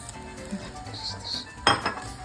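Kadayif pastry stirred and toasted in melted butter in a pan for homemade Dubai chocolate, with soft clinks of a utensil against the pan, a faint sizzle and a sharper scrape near the end, all close by with no talk.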